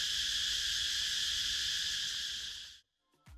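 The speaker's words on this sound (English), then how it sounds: "here we have some more trees and the cicadas, which were extremely loud" Loud, dense cicada chorus from park trees, a steady shrill buzz that runs unbroken for nearly three seconds and then cuts off abruptly, leaving near silence and a couple of faint knocks.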